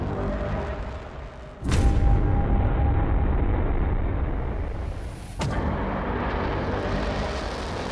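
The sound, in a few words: bombing explosions in Beirut, Lebanon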